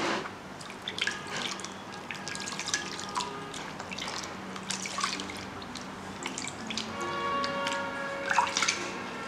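Water runs and splashes in small irregular drips and trickles as a body mask is rinsed off skin, a soft, close sound without speech.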